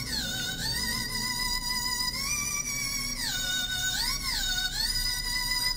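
Z-Glide synth preset from Superstaro, layered as the hook in a beat made in FL Studio, plays loud and alone: bright sustained tones that swoop and bend in pitch, with repeated gliding dips and rises.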